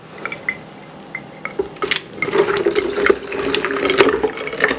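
Water poured from a container into yogurt to make spicy ayran, starting with a few scattered drips and splashes, then a steadier close pouring trickle that builds in the second half.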